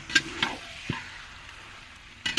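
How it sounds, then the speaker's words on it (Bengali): Chicken pieces frying in oil with spices for a village-style chicken biryani, a quiet steady sizzle broken by a few sharp crackles and stirring clicks. "এবার এর মধ্যে দিয়ে দেবো চিকেন এবার ভালো করে মশলার সঙ্গে চিকেনগুলোকে মিশিয়ে নিতে হবে"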